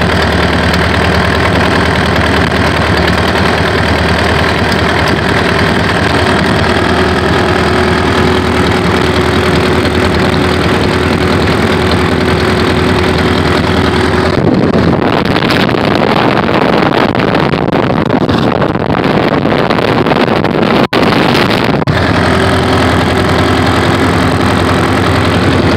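An H5 engine runs steadily after start-up, a loud continuous close-up drone with a shift in tone midway, then returning to the same hum.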